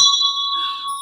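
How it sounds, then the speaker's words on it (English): A Tibetan bell struck once in a quiet room, giving a clear ding whose bright, pure tone rings on and slowly fades. "The one that goes ding. You want the Tibetan one?"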